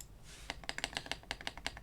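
Computer keyboard being typed on and handled, a quick burst of about a dozen close, crisp key clacks at an uneven rhythm, with nothing else in the background.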